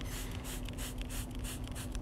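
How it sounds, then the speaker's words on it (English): Chemical Guys Lightning Fast cleaner is sprayed by hand onto fabric upholstery in a quick series of short hissing pumps, close and fairly soft. "spray some more Lightning Fast on this affected area"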